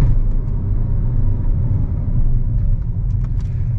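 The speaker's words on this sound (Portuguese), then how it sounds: "Reduzindo na marcha pra não prejudicar o carro." A Jetta TSI engine-brakes in a lower gear while descending a winding mountain road, giving a steady close, loud low rumble of motor and road noise with no talk.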